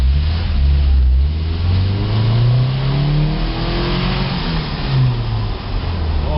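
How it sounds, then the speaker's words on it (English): A 1988 Toyota Pickup with a 22RE engine revving up and easing back repeatedly, the engine pitch rising and falling, loud and close with no talking over it. "Oh, the fan just shut off, so now you can hear the motor."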